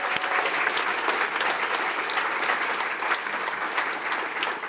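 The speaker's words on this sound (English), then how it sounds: "A round of applause for them." A crowd claps warmly and continuously at a welcome event for new owners of a women's soccer club, dense even applause holding steady throughout.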